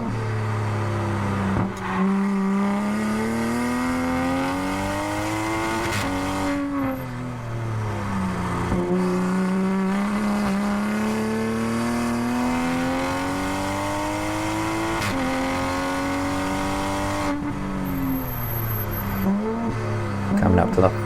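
A roughly 1000-horsepower Toyota Supra race car on a hot lap at Ridge Motorsports Park, engine loud and continuous as it rises and falls through repeated gear changes, with brief tire noise.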